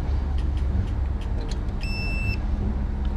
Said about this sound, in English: I hit the code button, I screw the sensor on the valve stem, it reads that setting